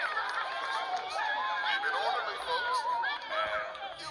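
Murmuring crowd of villagers in Minecraft: Story Mode, with overlapping chatter and snickering voices at a steady, moderately loud level.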